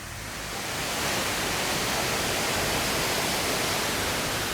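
A waterfall (jantur) in Kutai Barat roars as a steady, broad rush of falling water, constant and enveloping with no pauses.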